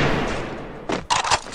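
Gunfire in the Free Fire battle-royale game: a few short bursts of shots near the end, following a stretch of dense, broad game noise, fairly loud.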